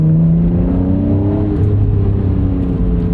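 A Porsche Cayman 718 GTS 4.0 with its mid-mounted engine revs loudly and steadily, a dense harmonic drone shifting slightly in pitch over about three seconds, with no voices present.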